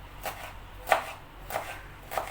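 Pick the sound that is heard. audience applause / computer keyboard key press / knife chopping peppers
knife chopping peppers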